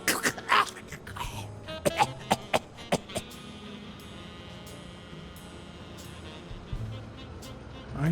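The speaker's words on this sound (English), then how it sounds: "You've got one nasty cough." A character in the video game Blacksad Under the Skin coughs in a cluster of sharp, close coughs and throat clearing early on, then quiet ambience with faint background sounds.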